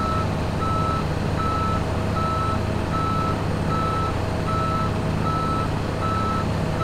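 Reversing beeps from a truck in American Truck Simulator, a steady, evenly spaced electronic beep repeating over a continuous engine drone, with no talking.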